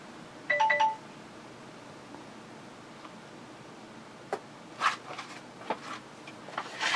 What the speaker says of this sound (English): Who can it be texting on the phone?